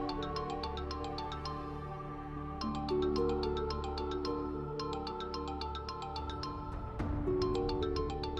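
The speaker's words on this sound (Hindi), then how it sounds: "मरियम का फोन" A mobile phone plays a repeating electronic ringtone melody of bright chiming notes that stops and restarts, loud and steady against a low background hum.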